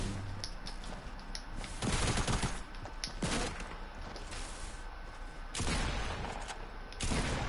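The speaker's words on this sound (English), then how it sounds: "Someone's shooting at me." Sustained video game gunfire during a shootout, dense rapid bursts of shots with heavier volleys recurring every few seconds, loud and continuous throughout.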